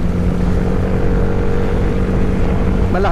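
A Honda motorcycle fitted with a new blue-tipped MT8 exhaust muffler from Thailand idles with a loud, steady, throaty drone, close by and unbroken, with no talking.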